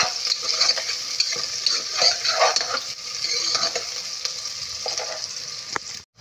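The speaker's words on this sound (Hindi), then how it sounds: "अब हमने थोड़ी सी इसमें चमची हिलानी है।" Onions sizzle steadily in a pan while a spoon stirs and scrapes through them, close and continuous, ending with a brief metallic knock.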